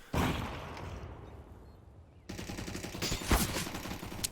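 Gunfire in Counter-Strike on Inferno at a professional esports match, a dense burst of rapid shots followed after a short lull by a second loud spray, with no voices.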